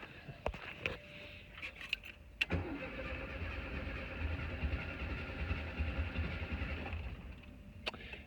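A 1974 Volkswagen Karmann Ghia engine cranks with a few sharp clicks, then catches at about two and a half seconds and settles into a steady, loud idle that runs on before a few clunks near the end.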